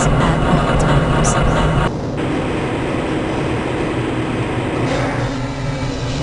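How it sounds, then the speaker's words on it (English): Inside the Black Mesa transit tram in Half-Life: Blue Shift, a loud steady rumble and rolling hum carries the ride along, with a brief shift in tone partway through and a recorded announcement voice speaking over it. "This train is inbound from the Area 8 topside dormitories to the Central Transit Hub in Area 9."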